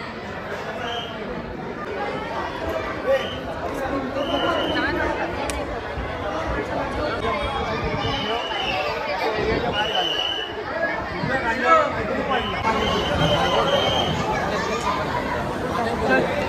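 A dense crowd of devotees murmurs at the Chinchpokli Chintamani Ganpati pandal in Mumbai during the 2023 Ganesh festival, a steady babble of many overlapping voices filling the space, with a nearby voice talking over the hubbub.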